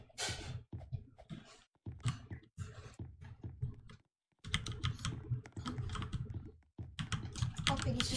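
Computer keyboard keys pressed in rapid, repeated bursts during a Roblox Piggy game with sticky keys being triggered, loud clattering typing separated by short pauses.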